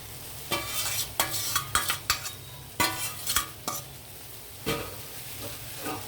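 Spatula scraping and clanking through noodles with egg and masala in a frying pan, a series of sharp irregular strokes over a soft sizzle, close and alone without talk.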